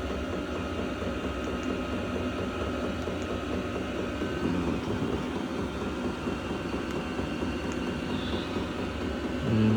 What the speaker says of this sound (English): now I got this diesel heater here